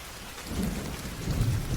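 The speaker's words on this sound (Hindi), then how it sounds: "चारों ओर जोरदार बारिश शुरू हो गई।" Heavy rain pours steadily with low rumbling thunder swelling beneath it, a dense, continuous wash with no voices.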